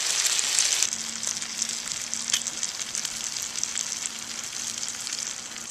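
Breakfast hash frying in a pan over a fire, a steady close sizzle with crackling spatters throughout and a brief louder stir-like scrape near the start.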